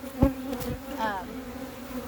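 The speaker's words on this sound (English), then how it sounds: "I want to be able to knock these bees down into the colony" Honey bees buzzing during a hive inspection, a close droning hum with a short rising whine from a bee passing near, briefly under a single spoken word.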